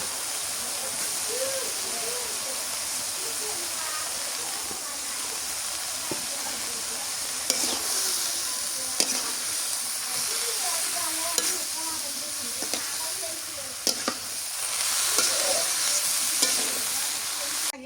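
Steady frying sizzle from a pan fills the clip, with occasional scraping and stirring clatter and a brief louder burst near the end; no one speaks.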